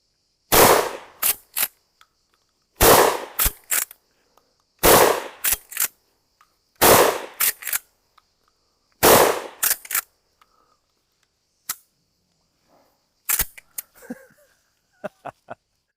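A Winchester 1887 lever-action shotgun fired five times in a steady rhythm, each loud close blast followed by the metallic clack of the lever cycling, then a few quieter mechanical clicks and handling sounds.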